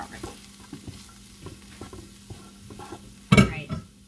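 A spoon stirs browned beef into a stuffed pepper filling in a bowl, giving soft scraping and clinking strokes, then one louder clatter near the end.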